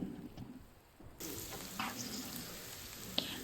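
Chicken roast with small onions sizzling hard in a pan over a high flame, a steady close frying hiss with a few sharper crackles.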